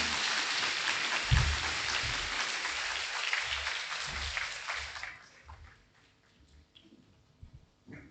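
Audience applause at a university smart lab and robotics launch, a sustained clapping crowd for about five seconds before it dies away into quieter room noise with faint stray sounds.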